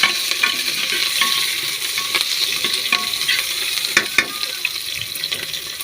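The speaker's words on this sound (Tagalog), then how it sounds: "Tapos halukayan natin konti." Adobo being stirred in a hot frying pan, with moderate sizzling under irregular scraping and clinking strokes of a utensil against the pan.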